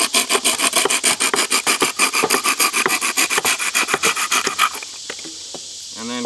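A bamboo cork end being trimmed with a blade or saw, giving steady rhythmic rasping strokes, close and fairly loud, about twenty quick back-and-forth passes before stopping into quiet.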